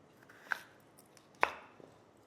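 A knife cuts potatoes into quarters on a cutting board, giving two sharp, separate chops about a second apart and a faint third tap, all quiet and close, with no talk.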